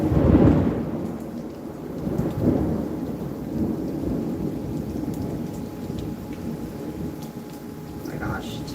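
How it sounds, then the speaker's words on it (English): Thunder rumbles over steady rain, with a loud close roll at the start and softer rumbles after, while rain patters continuously on surfaces throughout. "tell me if you can hear this thunder, guys"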